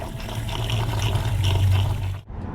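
Water rushes through the cooling passages of a Tacoma engine, flushing out mud in a steady, close splashing gush that cuts off abruptly near the end.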